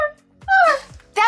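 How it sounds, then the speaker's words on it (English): A dog gives a few short, whimpering yips close by, each a brief rising-and-falling cry separated by pauses, with children talking excitedly around it. "You guys, it barked! It's a real dog!"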